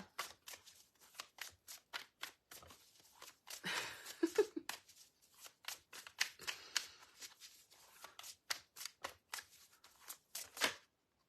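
A deck of oracle cards being shuffled by hand, a long run of crisp, rapid riffling bursts at close range with brief pauses between, loudest in a dense flurry partway through.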